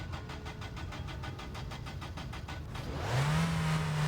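A car engine cranks and catches in the video game My Winter Car, with a rapid rhythmic starter churn for nearly three seconds before the engine fires and settles into a steady, fairly loud hum.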